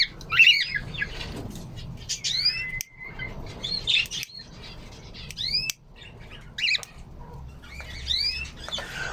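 Stone-curlew (karawan) and canary birds sing in sharp, bright chirps and whistled calls that come in short bursts every second or so over a low background hum.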